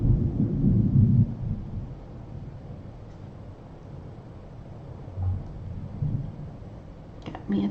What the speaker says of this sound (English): Got me a thunderstorm coming through.